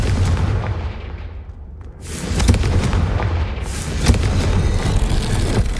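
A Confringo blasting spell explodes in Hogwarts Legacy with a heavy booming blast followed by a second rumbling detonation, loud and close, with continuous low game ambience and no talking.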